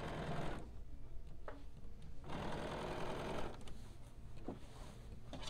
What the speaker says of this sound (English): So what I'm doing is I'm sewing on the folded line that I made when I used my little bias tape maker